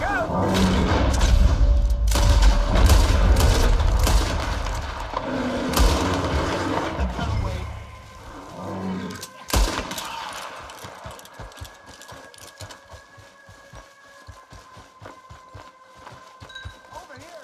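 Gunfire at a bear in Red Dead Redemption 2, loud booming shots and heavy thuds amid hoofbeats and a struggle, followed by sparser sharp cracks and rustling, with voices shouting over parts of it.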